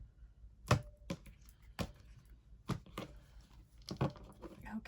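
A tarot deck being cut by hand, with several separate sharp card taps and slaps spaced out over a few seconds, close and isolated with no talking.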